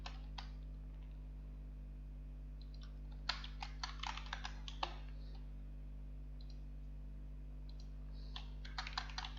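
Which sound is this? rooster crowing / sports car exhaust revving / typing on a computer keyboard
typing on a computer keyboard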